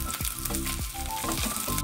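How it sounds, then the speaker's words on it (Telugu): Curry leaves and green chillies fry in hot oil in a pan, a close, steady sizzle broken by a few sharp crackling pops and spoon scrapes. "కరివేపాకు కూడా కొద్దిగా ఫ్రై అయింది."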